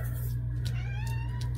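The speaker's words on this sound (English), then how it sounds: "Oh, there's my kitty." A pet cat meows in a short, rising, plaintive call over a constant low hum, close and fairly faint, with no talking.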